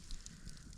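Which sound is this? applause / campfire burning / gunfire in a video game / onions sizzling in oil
campfire burning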